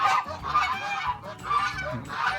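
A goose on a farm honks loudly and repeatedly at close range, several harsh calls in quick succession with brief pauses between them.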